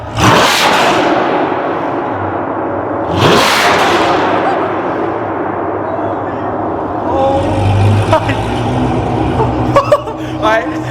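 A straight-piped C8 Corvette blasts out loud revs inside an underground parking garage, two sharp full-throttle bursts echoing off concrete, then a rumbling idle with crackles and pops near the end.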